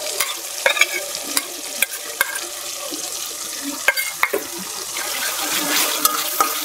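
Beef and taro cubes frying in a pan as ground chili, onion, garlic, ginger and cumin paste is stirred in, giving a steady sizzle broken by sharp scraping clicks of the spoon, close and without speech.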